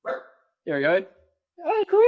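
A pet dog named Wolfie, sounding from the background during a home conversation, gives a few short woofs and yips in separate bursts, mixed with a person speaking.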